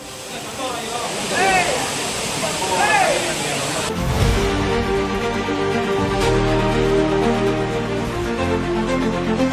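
Courtallam's main waterfall pours with a dense, continuous roar, loud and close, broadband rushing that holds steady throughout with a shift in tone partway through.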